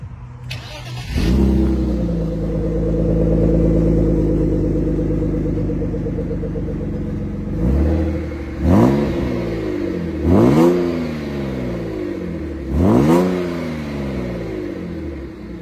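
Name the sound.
BMW E39 car engine starting and revving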